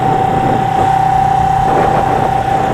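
A cafe-style motorcycle engine runs steadily while the bike is ridden through New Jersey, a constant loud drone with a strong sustained tone and no breaks.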